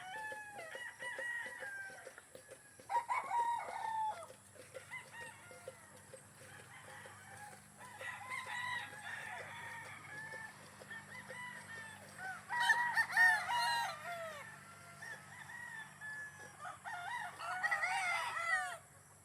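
Several chickens cluck on and off on a farm while roosters crow loudly a few times, close by in an otherwise quiet outdoor setting.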